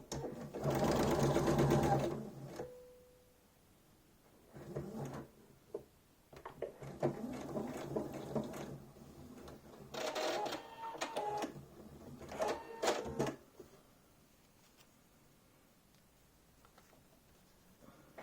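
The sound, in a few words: sewing machine stitching fabric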